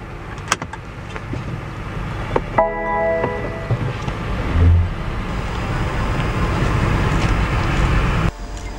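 BMW X3 xDrive20i with a 2.0-litre four-cylinder turbo driving on the road, heard from inside as a steady low road and engine hum with a few clicks and a brief mechanical whine, no talk.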